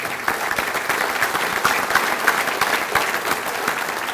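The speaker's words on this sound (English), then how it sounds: "Let's give them a round of applause." An audience at a Touchdown Club luncheon gives a steady, dense round of applause, many hands clapping together close by for several seconds with no talk over it.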